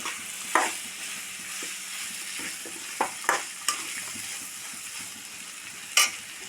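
Curry with freshly added chopped tomato being stirred in a pan: soft scraping and sizzle, with a handful of sharp spoon clacks against the pot spread across the stretch, fairly quiet and close.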